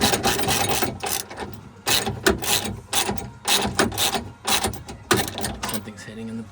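A ratchet clicks in repeated bursts while seatbelt harness mounting hardware is tightened on a G35, a steady rhythmic series of close, sharp mechanical clicks with pauses between strokes.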